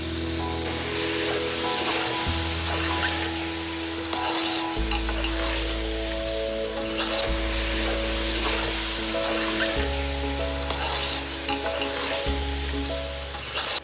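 Chicken with salt, fresh green chili, turmeric and chili powder cooks in a pan, giving a steady loud sizzle and frying hiss with repeated stirring scrapes throughout, no voices.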